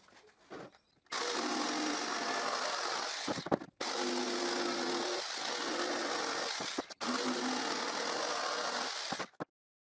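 A jigsaw cuts a pallet wood board in three long, loud buzzing passes, each several seconds long and separated by short pauses.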